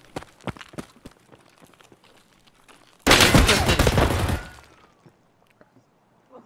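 Gunfire in Escape from Tarkov, a few scattered distant shots, then a loud sustained burst of rapid fire lasting over a second, fading to quiet afterwards.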